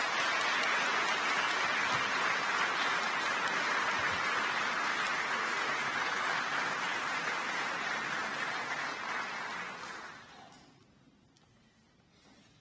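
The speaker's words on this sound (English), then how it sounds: "Let's have another round of applause for our senior award recipients." Applause for senior award recipients at a high school awards night: a loud, dense wash of clapping from a large audience that holds steady, then thins and fades out near the end.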